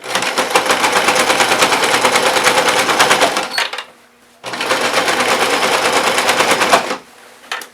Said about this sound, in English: To sew all the way to where I had first finished off.